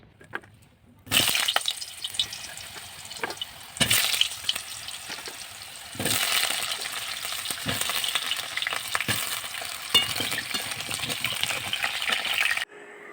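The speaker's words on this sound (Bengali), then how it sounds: "ওইদিকে দেখো কড়াইতে এখন আলু ভেজে নেবো" Potatoes fry in a wok with a loud, steady sizzle that swells in bursts as pieces are stirred, scraped and turned throughout.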